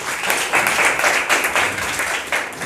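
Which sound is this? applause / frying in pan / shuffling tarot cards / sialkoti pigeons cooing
applause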